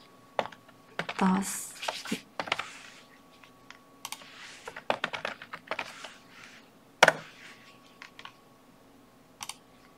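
Phrases being typed on a computer keyboard, heard as bursts of close, crisp key clicks in irregular runs with short pauses between, plus a few louder isolated taps.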